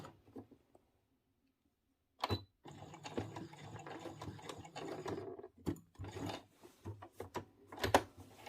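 A sewing machine stitches a holding seam on a dress, its motor whirring in short uneven runs with mechanical clicks between them, close and fairly quiet after a brief silent opening.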